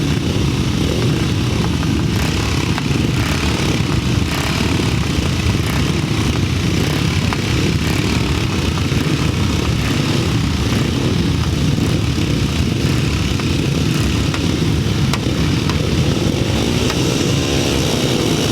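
Pre-1975 grasstrack motorcycles racing a heat at a Bewdley meeting in May 2007, their engines droning loudly and continuously throughout, several machines blended into one steady roar.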